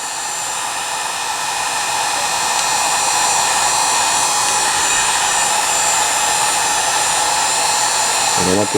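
A heat gun blows a steady, whining stream of hot air onto a part during restoration of a Philco 41-245 radio, the airflow rising slightly in loudness and holding close and continuous.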